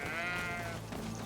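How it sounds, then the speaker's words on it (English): A sheep bleating in the video game GreedFall, a single nasal, wavering bleat up close that tails off, followed by quieter background game sound. "Sheep."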